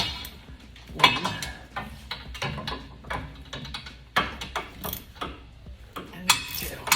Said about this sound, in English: I remove the mounting bolts from the brake caliper bracket